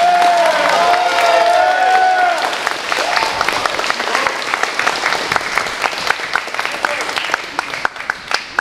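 Applause and a few cheers from a talent show audience break out as a sustained musical note fades, then the clapping settles into a steady, dense patter that gradually thins.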